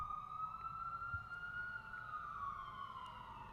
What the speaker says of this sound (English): Can you guys hear those police sirens?